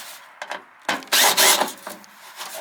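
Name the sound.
unscrewing a screw from a rusty wheel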